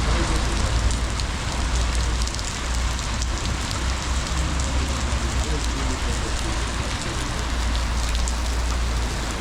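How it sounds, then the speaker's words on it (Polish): Heavy rain pouring down outdoors at the edge of a forest on a mountain hike, a loud dense continuous hiss of drops drumming on surfaces, steady throughout with no talk. "Leje niesamowicie."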